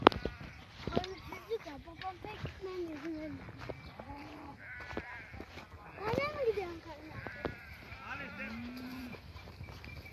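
Sheep bleat now and then on a green highland pasture near a village mosque, calls rising over steady talk, footsteps and rustling close by.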